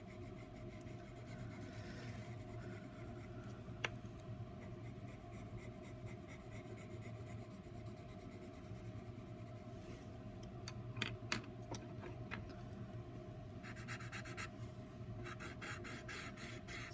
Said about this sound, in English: I'll use the colorless blender, and I'll show you up close what that looks like.